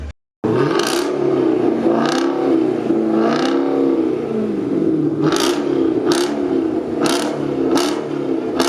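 A BMW M5 engine revs hard again and again at a car meet, rising and falling in loud surging bursts, with sharp crackles cutting through the roar.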